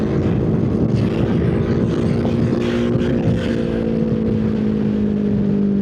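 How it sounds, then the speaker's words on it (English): A 2026 Royal Enfield Himalayan motorcycle engine pulls from 3000 RPM in fourth gear, a loud, steady drone with a rising pitch as it gains speed, heard close up with no voices. "3000 RPM, 4th gear. Starts pulling. Gets faster."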